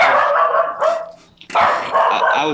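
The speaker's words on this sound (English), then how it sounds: "He's a crazy dog, but barks at everything." A dog barks loudly and close by in two bursts of repeated, excited barks with a brief pause between them.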